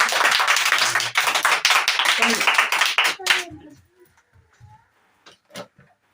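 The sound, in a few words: clapping for a student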